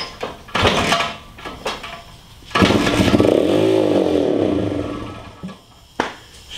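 A 1994 Honda XR100R dirt bike engine sputters into life and is revved, with short bursts then a long rising and falling rev, heard close and loud without speech.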